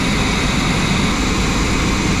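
The 1983 Chevy V8 engine of a Holiday Rambler motorhome idles with a constant loud, rumbling drone, steady and close, with no speech over it.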